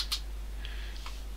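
A few light clicks of typing on a computer keyboard followed by a return keypress, faint and close against a low steady hum.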